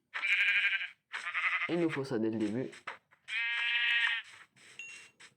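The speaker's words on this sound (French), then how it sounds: "J'ai entendu une autre chèvre, enfin un autre mouton." Sheep in the video game Minecraft bleat loudly and close several times in a row, long wavering cries with short pauses between them, and someone talks over one of the cries.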